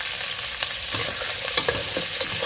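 Chopped onion, celery and pepper sizzle loudly in a hot pan for Dominican rice with longaniza, with a steady frying hiss and scattered scraping stirs from a utensil close up, no voices.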